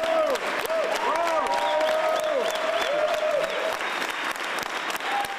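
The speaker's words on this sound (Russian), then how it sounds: "все в зале встали и устроили овацию" A theatre audience stands to give Oleg Tabakov an ovation, dense sustained applause from a full hall that fills the whole stretch, with a narrator talking over it.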